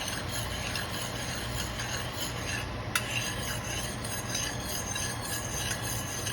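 A spoon or utensil stirs a lemon butter sauce roux in a pan, scraping steadily across the bottom with a continuous close scratching sizzle and one sharper clink partway through.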